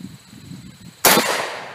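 A single sharp AK-74 rifle shot cracks out loud and close after a brief quiet outdoor lull, followed by a short fading echo.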